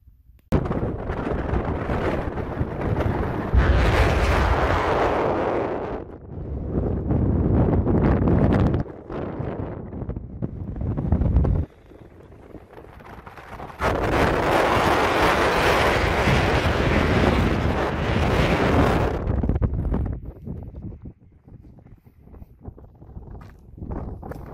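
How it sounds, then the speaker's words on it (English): Strong wind buffets the microphone on an exposed desert ridge at Gass Peak in Nevada's Desert National Wildlife Refuge, roaring in loud, broad gusts that swell and drop, with occasional footsteps. "it's pretty windy"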